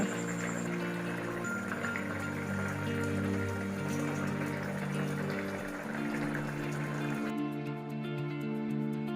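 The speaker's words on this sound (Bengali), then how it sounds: "ঝোল একদমই ফুটে গেছে।" Fish and potato curry gravy boils in a pan, a soft, steady bubbling and spattering heard faintly and continuously, with a low background hum.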